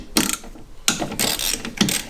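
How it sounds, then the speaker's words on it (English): A ratchet working bolts loose on the rocker cover of a BMW E36 with an M44 engine, giving three short bursts of quick metallic clicking, close and moderately loud, with brief pauses between. "I'm just going to undo these and see if I can loosen this to give myself a bit more room."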